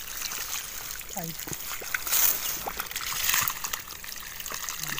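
Water runs steadily from a pipe in a continuous splashing trickle, with faint voices in the background.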